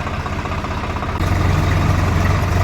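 Farm tractor engine running steadily at a low, throbbing idle nearby, growing slightly louder and heavier partway through, with no talk over it.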